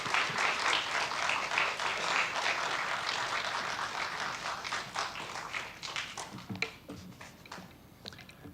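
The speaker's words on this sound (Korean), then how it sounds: "박수로 환영하고 우리 말씀 듣도록 하겠습니다" Congregation applauds at an early-morning special dawn prayer service in a Korean church, a dense, steady clatter of many hands that thins into scattered claps and fades out near the end.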